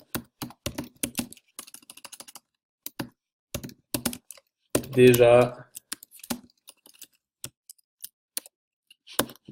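Quick bursts of keyboard typing, close and crisp, in short clattering runs with pauses, as a voice speaks briefly in the middle.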